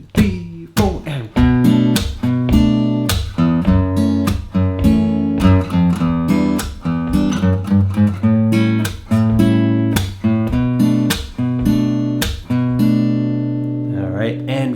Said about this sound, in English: I'm going to put together an original chord progression and add in a funky rhythm